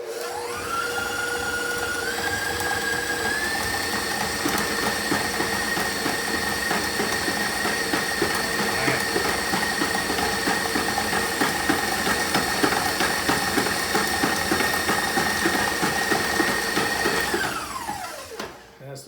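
An electric mixer beats a butter mixture for alfajores at high speed, a loud, steady whir that rises in pitch as it speeds up, then winds down abruptly at the end.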